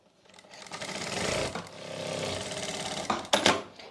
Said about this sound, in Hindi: इस तरह से हमने एक हिस्से पे सिलाई लगा लेनी है।